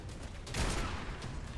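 A Barrett M82 .50 calibre anti-materiel rifle fires in Fallout 4, giving a single loud, heavy blast followed by a rolling, booming explosion that fades out over about a second.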